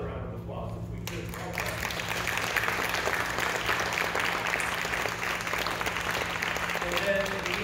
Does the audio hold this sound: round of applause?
yes